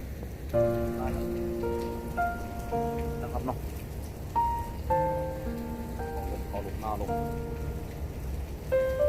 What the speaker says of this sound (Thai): ก็มาชมนาฝนตกนะครับ